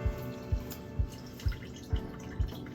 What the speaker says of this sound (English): Water will be trickling.